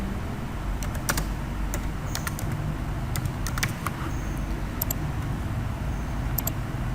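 Keys tapped on a computer keyboard while typing in Microsoft Word, a close run of sharp, irregular clicks over a steady low background hum.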